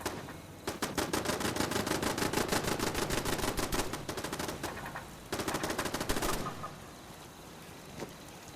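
Sustained automatic gunfire in Fallout 76, a loud rapid burst lasting several seconds, a short pause, then a second burst before it fades into quieter background sound.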